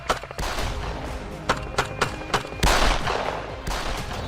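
Rapid gunfire rings out as three attackers shoot at a Scorpio SUV near a city police station, a string of sharp loud shots in quick succession followed by a heavier burst.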